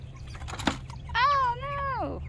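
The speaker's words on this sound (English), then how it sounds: "Oh, little happy birds." A meat chicken in a chickshaw gives one clear, near call lasting about a second, rising and then sliding down, after a few quiet clicks and shuffles against a low steady hum.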